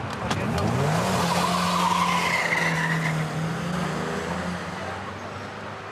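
A car revs hard and speeds away with loud tyre squeal and skidding on a street in Hackney, the engine pitch rising and then holding as the car pulls off, with a brief shout near the start.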